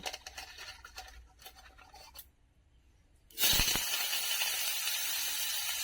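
Taro pieces drop into hot oil with cumin seeds already frying. After a quiet stretch, a loud hiss bursts out suddenly and holds as a steady, close sizzle.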